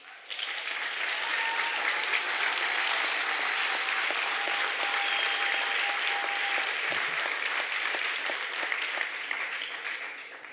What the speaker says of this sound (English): join in a hearty round of applause for all our graduates